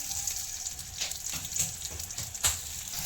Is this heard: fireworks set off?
no